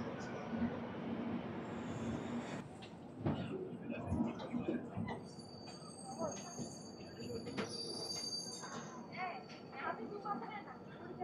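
Korba Express, train 18518, pulling out of Visakhapatnam station, with rolling rumble, clanks and high wheel squeals from nearby cars while someone talks over it.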